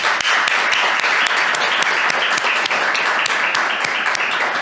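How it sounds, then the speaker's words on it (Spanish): An audience gives sustained, dense applause for a guest at the close of a live podcast recording, steady and loud with no break throughout. "le damos un fuerte aplauso"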